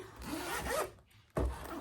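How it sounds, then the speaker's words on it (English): A zipper on a brown leather Mark Fisher boot is drawn open and then shut: a quick rasping zip, a short pause, then a second sharp zip, close up and alone. "Zipper works."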